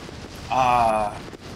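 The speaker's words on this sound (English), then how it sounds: "Wow, explosions already." Space battle explosions in the Endless Space 2 video game erupt as a loud, sustained rumbling blast lasting about half a second, standing out over steady background game sound.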